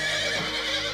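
A horse neighs loudly and close throughout one second, a sustained whinny with a steady rich tone and no talking over it.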